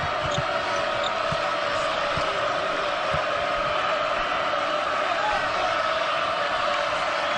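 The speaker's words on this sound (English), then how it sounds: "Crowd has been great all day." Arena crowd noise at an Ohio State Buckeyes basketball game against Michigan State, a steady roar under an announcer's play-by-play, with repeated ball bounces thudding on the court.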